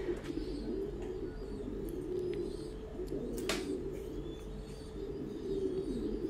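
Thai Titan pigeons coo in their loft, low soft repeated coos overlapping in a steady murmur, with a few brief chirps and a faint knock above, moderately close, no voices.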